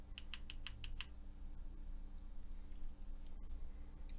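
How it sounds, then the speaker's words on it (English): Button on a MiniMax PRO keychain oil vaporizer clicked rapidly in a burst of about five small, sharp clicks, followed by faint tapping against a quiet background. "Now let's click it 3 times again."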